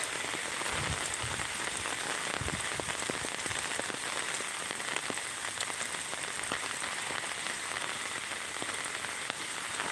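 Heavy rain pours steadily near a river after a night of downpour, a dense, continuous hiss of drops drumming on surfaces with scattered sharper splashes throughout, loud and close with no talk.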